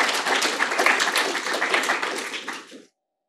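An audience at an astronomy software talk applauds, a burst of dense clapping from many hands that stays fairly loud for about three seconds, then fades and stops abruptly.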